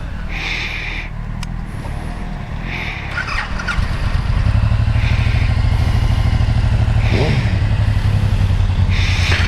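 A 2018 Suzuki Boulevard M109R B.O.S.S. motorcycle on its stock exhaust starts up and settles into a loud, steady low rumble close by, with a few clatters and short blips of revving.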